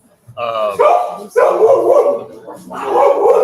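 A dog barks in a few loud, close bursts with yips and a howling edge, separated by short pauses, in an outdoor setting at a pizza place by a lake.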